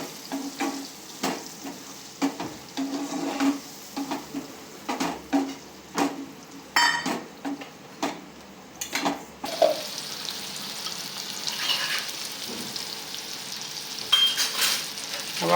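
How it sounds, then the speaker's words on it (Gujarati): Tomatoes are mashed and stirred in a frying pan for a Gujarati whole-onion curry, with close, repeated scraping strokes over a steady sizzle; no one speaks. "હવે આપણે એને સરખી રીતે મેશ કરી લેશું।"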